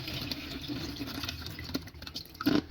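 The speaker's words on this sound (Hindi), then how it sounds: "ये हमने ऐसे ही इसमें पानी गिराई जाना है" Water is poured into a bowl of soaked poppy seeds to wash them, a faint trickling and splashing that patters on quietly.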